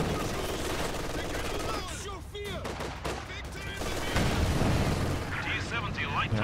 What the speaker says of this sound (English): he's going for another machine gun